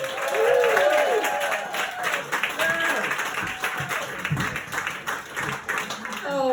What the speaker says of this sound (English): Please whoop, holler and cheer for the hilarious Mary Ryan!